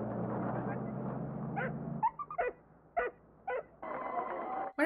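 Tied-up dog in the film Patton gives a run of short whimpers and yelps at middle distance, after a rumbling engine-like background fades out.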